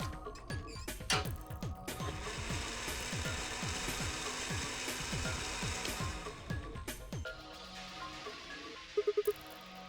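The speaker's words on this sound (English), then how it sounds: "I'm gonna throw this root into the mixer." Mixer in the video game Zero Escape: Virtue's Last Reward grinding a tough root, a busy run of rapid ratcheting clicks and grinding crunches for several seconds, then a quieter stretch with a few short electronic beeps near the end.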